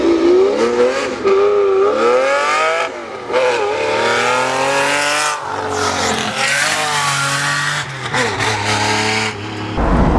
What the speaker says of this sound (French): Il y a un mec qui a osé mettre une ligne de ouf sur la même voiture, la XJS V12.